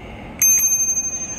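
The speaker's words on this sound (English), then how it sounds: "You want a bell." A bicycle bell rings twice in quick succession, bright and loud up close, its metallic tone ringing out and slowly fading over a quiet background.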